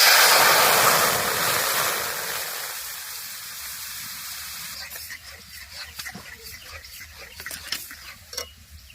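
Strained tomato juice pours into a cleaned wok. It starts as a loud, steady liquid rush that fades after a few seconds, followed by quieter clinks and handling noises.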